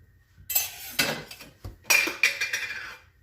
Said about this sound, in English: Oh, there goes my lid.